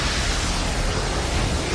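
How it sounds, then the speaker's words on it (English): A dense, roaring burst of explosive energy from the Naruto anime's Silver Wheel Rebirth Explosion attack, loud and sustained with a broad rumbling wash and no voice over it. "Silver Wheel Rebirth Explosion!"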